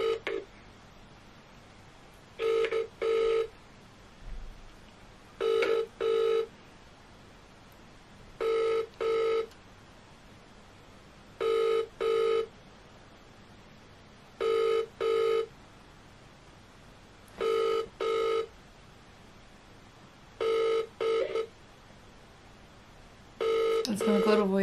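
Outgoing phone call ringing, a repeated electronic double ring tone sounding about every three seconds, eight cycles in a quiet background.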